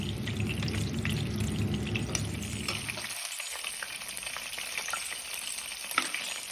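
Cuttlefish and pea meatballs sizzle steadily in hot oil, a dense close crackle that thins out partway through, leaving softer frying hiss with occasional pops.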